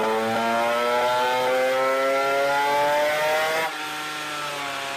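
A small engine on a run-in test holds a fast idle around 5000 rpm, a loud, steady buzzing whine with rich harmonics that creeps upward in pitch, then drops abruptly near the end to a lower, quieter hum.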